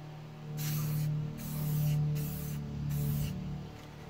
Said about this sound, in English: The thing to remember with the spray paint is that it does come out in bigger globules.